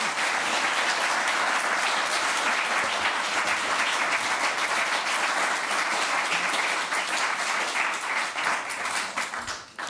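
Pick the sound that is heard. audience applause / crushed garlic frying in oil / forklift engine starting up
audience applause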